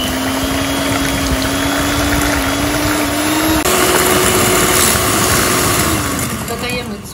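An electric mixer whirs steadily as it beats orange cake batter with sugar for a festive whole-orange babka, a loud close continuous motor drone that shifts pitch partway through and eases slightly near the end.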